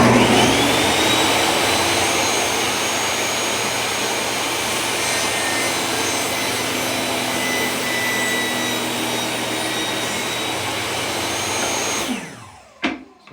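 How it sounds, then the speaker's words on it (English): A saw cuts a piece of wood to length in a steady, loud, continuous whine that runs for about twelve seconds before stopping abruptly, followed by a couple of faint knocks. "Start to saw."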